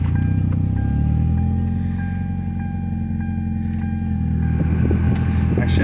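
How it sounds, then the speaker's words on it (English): Hyundai Tiburon engine, after an idle air control valve replacement, running at a steady low idle close by, a continuous deep rumble that rises slightly toward the end, with no talk. "let's start the car and see if this fixed our problem here"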